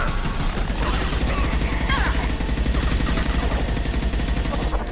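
Rapid automatic gunfire from a soldier's inaccurate weapon in a Mass Effect 2 Legendary Edition firefight, a dense steady rattle of shots running nearly the whole time over layered combat noise.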